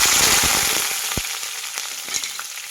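Long-cut strips of a thick capsicum hit hot oil in a pan, a loud burst of hissing sizzle that gradually settles into softer crackling with a few sharp pops and scraping knocks.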